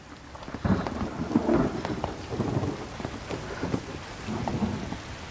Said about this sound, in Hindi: अचानक से बारिश आ गई।